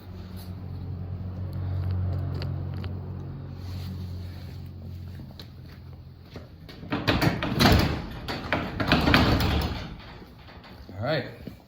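A garage door locked with a padlock deadbolt is pulled and held fast, giving a few loud rattling, clanking bursts after a quiet stretch of low hum.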